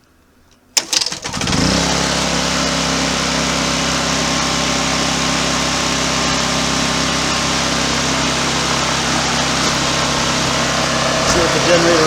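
A Honda generator's small engine catches after a pull-start and settles into a loud, steady running drone close by, holding even for the rest of the stretch.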